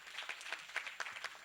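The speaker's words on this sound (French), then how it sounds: "les enfants, qu'on applaudisse tous les encadreurs" Children and adults applaud at a school gathering, a steady patter of many hands clapping at moderate distance for the whole span, no voices on top.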